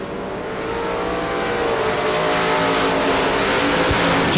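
A pack of modified race cars roaring off at the green flag on a speedway oval, engines building into a loud, continuous full-throttle drone that swells steadily with no break.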